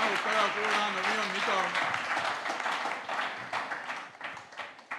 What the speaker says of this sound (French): Nous pouvons acclamer le Seigneur pour notre soeur